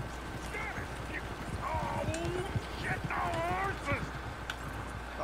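Horse hooves clip-clop in the video game Red Dead Redemption 2 as a steady rhythmic patter under ongoing talk, with a horse whinny breaking through partway.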